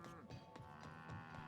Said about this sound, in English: where did these cows come from?